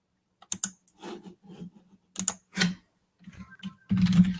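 Clicks from typing on a computer keyboard come in irregular bursts, close and distinct, ending in a denser flurry of keystrokes.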